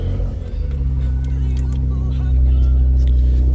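The engine of a Porsche Macan GTS starts and settles into a deep, steady idle rumble that swells slightly toward the end. A voice talks briefly at the start.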